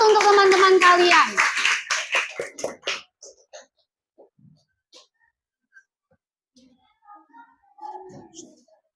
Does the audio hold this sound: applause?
yes